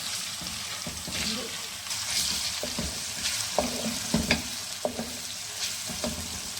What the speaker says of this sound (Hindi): लहसुन को मैं अच्छी तरह भून लूँगी।